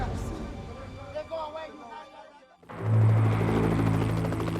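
A voice speaks first, then a helicopter rotor rises abruptly into a loud, steady, throbbing drone that fills the rest of the moment.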